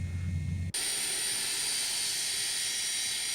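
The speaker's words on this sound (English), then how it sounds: "That's a JT8D right there." Pratt & Whitney JT8D jet engine of an MD80 airliner in a flight simulator, a low rumble that abruptly switches to a loud, steady whine with a sustained high-pitched tone, droning evenly to the end.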